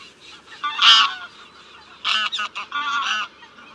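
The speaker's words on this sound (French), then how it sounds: "la plus grande, c'est l'oie cendrée" Greylag geese honking in a few loud, close bursts, one strong call near the start and then a cluster of rapid overlapping honks, with quieter calling and background noise between.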